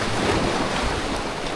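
Powerful ocean surf rolling and washing continuously at a fishing spot, a steady loud roar of waves mixed with wind buffeting the microphone.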